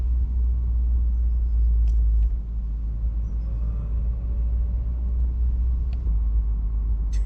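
Low, steady rumble of a car driving through a neighborhood, heard from inside with a continuous engine and road drone and a slight dip partway through.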